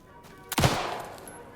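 A single gunshot in the horror game Alan Wake II, fired at glowing yellow faces: one sharp, loud crack with a short ringing decay that fades into quiet ambience.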